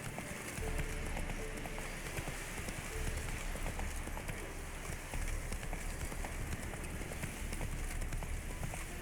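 Horse galloping in The Witcher 3, a steady clip-clop of hooves running on continuously over a dense rain-like wash of background game ambience, fairly quiet throughout.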